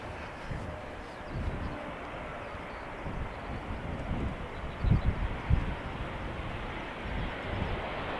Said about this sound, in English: So this Embraer does apply reverse thrust, or at least the slots are open.